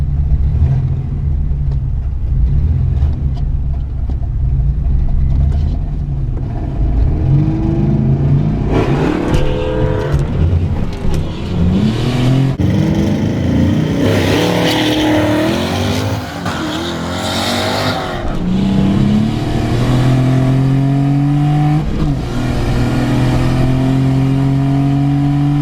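A turbocharged Chevrolet Cavalier Z24 with a 3400 engine revs loudly and up close at a drag strip, its pitch climbing and falling through repeated sweeping bursts with a brief tire-squeal quality, no voices over it.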